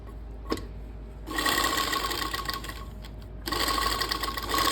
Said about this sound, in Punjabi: ਆਪਾਂ ਬੁਕਰਮ ਦੇ ਉੱਪਰ ਨਹੀਂ ਲਾਉਣੀ ਬੁਕਰਮ ਦੇ ਨਾਲ ਨਾਲ ਸੀਨ ਲਾਉਣੀ ਆ